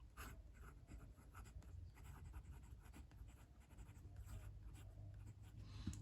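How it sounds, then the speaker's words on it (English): Scratchy writing strokes from a Pilot Custom 823 fountain pen with a broad 14K gold nib on paper, a quiet, steady run of close strokes with no talk. "So let's do a quick writing sample now, and we'll start with the Pilot Custom 823."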